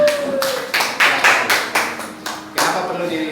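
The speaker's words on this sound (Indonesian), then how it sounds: "silakan tepuk tangan dulu untuk Bu Linda." Applause from an audience at a school curriculum reflection and evaluation meeting comes in short bursts of clapping, loud and close, with faint murmuring voices underneath.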